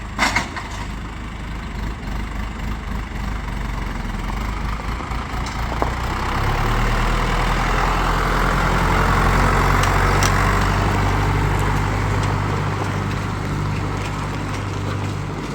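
Low, steady rumble of a tractor engine idling nearby on a sheep farm, deepening and growing slightly louder partway through, with no talking.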